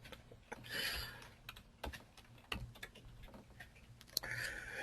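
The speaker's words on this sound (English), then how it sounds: "you have to excuse my typing" Someone types on a computer keyboard during a weekly Q&A livestream about FHA 203k loans, producing quiet, uneven bursts of key clicks with short pauses between them.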